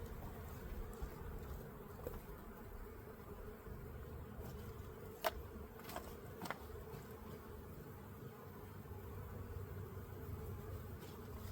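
Honeybees swarm around an open hive during a spring inspection, their steady, dense buzz continuous and close throughout, with a few brief sharper sounds of handling the hive.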